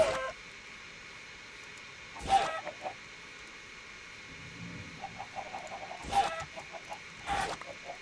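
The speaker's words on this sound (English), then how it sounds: "There's a chicken." Chickens cluck in the Minecraft video game, several short soft clucks scattered over steady background noise, with a few brief louder bursts and no speech.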